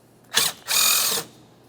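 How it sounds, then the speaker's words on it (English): A wrench loosens the mounting bolt on a car battery hold-down in a 2003–2008 Toyota Corolla, giving two short, close ratcheting bursts, the second longer, with no talk. "On the forward side, remove that mounting bolt."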